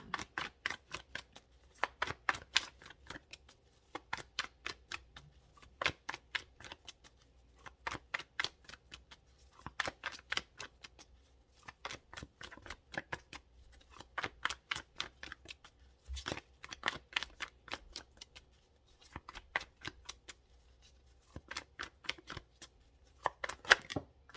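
Tarot cards are shuffled by hand in repeated riffling bursts, each a quick flurry of crisp papery slaps separated by short pauses, close and fairly quiet, with no voice over them.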